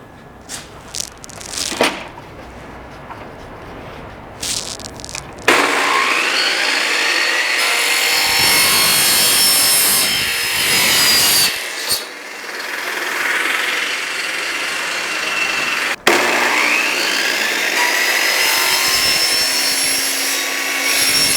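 A power saw whines loudly through PVC in long steady cuts, starting after a few seconds of light handling noise, briefly pausing midway.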